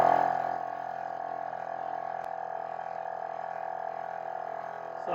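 A Gobege air compressor runs steadily while pumping up pressure, giving a constant, fairly loud mechanical drone with a faint rattle and one sharp click partway through.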